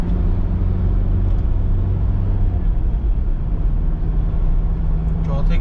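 A Toyota Innova cruising in fourth gear at about 100 km/h gives a steady, loud, close engine and road rumble that holds throughout, with a voice talking over it at times.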